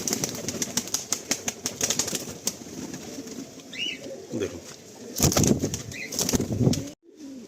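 A Malwai pigeon released by hand, with quick bursts of wing flapping and fluttering close by, faint coos in between and a short spoken word at the start.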